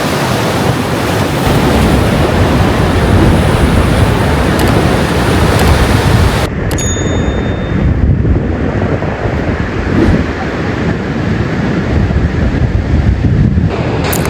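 Pacific Ocean waves wash continuously onto a beach in a loud, broad roar, with wind buffeting the microphone throughout and no voices.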